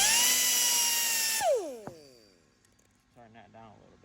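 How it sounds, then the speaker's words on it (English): Polishing wheel spinning down at high speed against stainless steel tubing, a loud tonal whine that drops sharply in pitch and fades, followed by a brief clunk and quiet talk near the end. "So let's start polishing here."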